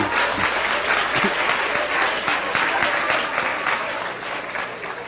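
Lecture audience applauding, a steady dense wash of many hands clapping that stays loud and even throughout and tapers only slightly at the end.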